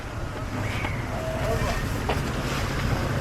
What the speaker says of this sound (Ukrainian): Сьогодні прям дуже сильний вітер у нас.